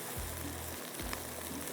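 Round red chilies with curry leaves sizzle in hot oil for a prawn curry, giving a steady close crackle with a couple of soft bursts. No one talks over it.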